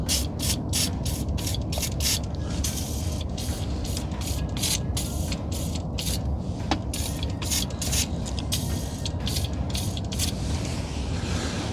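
A steady, dense hiss of spray on parts of a 1985 Merkur XR4Ti during an oil change, punctuated by rapid rhythmic ratcheting bursts, close and continuous throughout.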